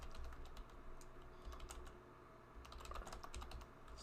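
Quiet, close typing on a computer keyboard while entering data in an Excel spreadsheet, irregular clusters of soft key clicks over a faint room hum.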